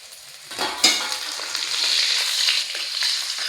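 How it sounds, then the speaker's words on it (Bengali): Grated garlic dropped into hot oil in a wok, a sudden loud burst of frying that settles into a steady, close, bright sizzle. "কড়াতে থাকা তেলের মধ্যে দিয়ে দিচ্ছি গ্রেট করা রসুন কুচি"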